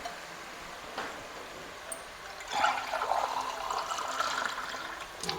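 Water pours into a karahi gosht pot in a kitchen, a splashing, gurgling stream that swells partway through after a couple of quiet knocks, then carries on steadily.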